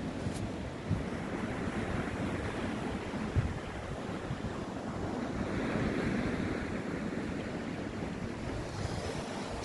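Waves wash steadily onto an English beach under gusting wind, a soft continuous surf roar with wind buffeting the microphone and no voices.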